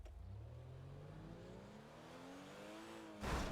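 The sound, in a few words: BMW X5 engine on ice mega ramp in GTA 5 video game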